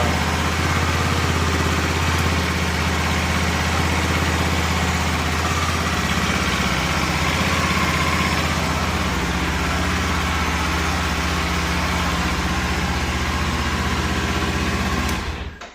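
Kawasaki Ninja 500 SE motorcycle engine idling steadily after a cold start, a close, even, continuous low hum that cuts off abruptly at the end.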